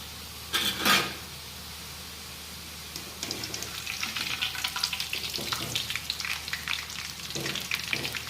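Sev frying in hot oil gives a continuous sizzle and crackle, with a couple of louder bursts near the start before the bubbling hiss steadies.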